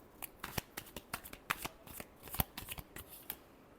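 Tarot cards being shuffled by hand, a quick run of crisp riffling snaps and flutters close by, with brief pauses between bursts and no talking.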